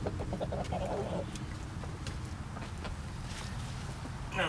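Backyard chickens clucking around a person setting up a chicken watering system outdoors, steady low clucks and bursts of calls throughout, fairly close, with faint background noise.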